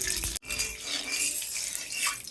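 Mustard oil poured into a cooking pan, a steady close liquid pouring sound lasting about two seconds after a brief knock, with no talking.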